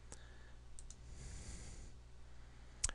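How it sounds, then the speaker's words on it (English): A few sharp, faint computer mouse clicks, one near the start, two close together in the middle and a louder one at the end, over quiet room noise. "just clicking the back arrow."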